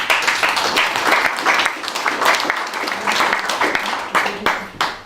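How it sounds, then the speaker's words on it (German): Dense, steady audience applause fills a live stage talk show in Berlin, loud and close throughout with no break, scattered voices mixed into the clapping. "Erdbebengleichen Applaus"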